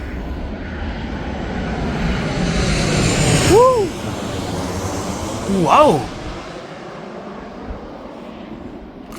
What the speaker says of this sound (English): These airplanes are going to get loud.